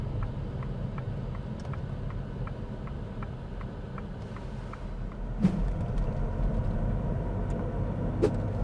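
A manual car's engine drops to a low, steady rumble as it slows uphill with the clutch pressed, heard from inside the cabin, with a regular clicking tick running alongside for the first half.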